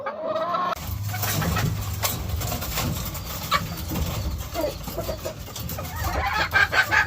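Breeding hens cluck and murmur in a noisy game-farm yard in Silang, Cavite, with scattered bird calls and rustling around them, fairly close and continuous.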